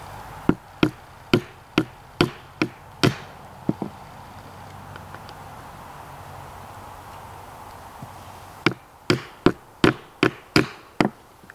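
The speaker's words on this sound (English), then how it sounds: "So I'm going to run holes about every 3/8 of an inch." Holes are punched in rawhide for a rattle in rapid sharp knocks, about seven in a quick even run, a pause with quiet background, then another rapid run of about seven close, loud strikes.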